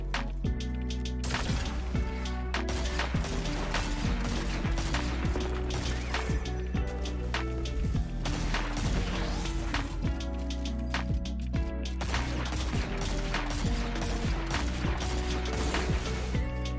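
Rapid video game gunfire crackles through a shooter's firefight, dense bursts of shots and impacts layered over a thumping music bed, continuous and busy throughout.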